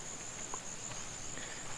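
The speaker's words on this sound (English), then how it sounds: "Really peaceful, just the birds and the crickets." Crickets trill steadily near a billabong in Kakadu, a constant high buzz with a few faint, scattered bird chirps in a quiet bush setting.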